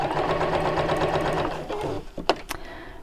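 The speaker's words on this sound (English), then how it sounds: "let's just turn that open and sew just along that crease line." A sewing machine stitches along a fabric crease line with a fast, steady mechanical whirr that runs for about two seconds, then stops, followed by a couple of sharp clicks.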